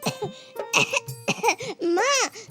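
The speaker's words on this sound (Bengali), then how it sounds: "আমার কত কাশি হয়েছে।" A child gives several short, close coughs, run together with voiced, laugh-like bursts and a rising, tonal vocal sound, as if the coughing is partly acted.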